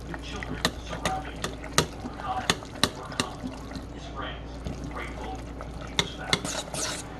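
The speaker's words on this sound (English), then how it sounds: "Stick your fork in that blob of butter and stir it around with it." A fork scrapes and clicks against a pan while stirring melted butter, soft sizzling beneath and faint background news voices from a distance.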